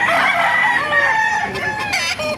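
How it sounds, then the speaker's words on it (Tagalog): Roosters crow and chickens cluck at a busy outdoor poultry market in Calumpit, several birds calling close by in overlapping bursts. "may dala siyang manok ngayon"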